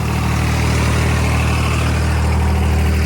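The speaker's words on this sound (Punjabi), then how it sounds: "9 ਫੁੱਟਾ ਰੂਟਾਵੇਟਰਾ ਦੇਖਦੇ ਆ ਕਿੰਨੇ ਚੱਕਰ ਤੋੜਦਾ ਟਰੈਕਟਰ" A tractor engine pulling a 9-foot rotavator drones steadily and loudly, a constant low rumble with no pauses throughout.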